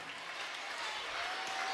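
Schoolchildren at a world record attempt event are greeted with applause, a dense wash of clapping from a crowd, steady and moderately distant, with no words spoken.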